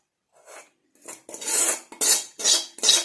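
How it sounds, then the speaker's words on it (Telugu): Homemade rosemary hair oil being filtered, with metal utensils clinking and scraping against a vessel in a run of short, close, bright clanks that grow more frequent toward the end. "నేను ఫిల్టర్ చేసేస్తానమ్మా."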